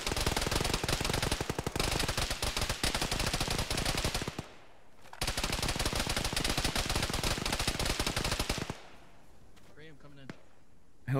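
Heavy, dense automatic gunfire in a military video game set at a shore battle, two long sustained barrages separated by a brief pause, with voices faintly talking near the end.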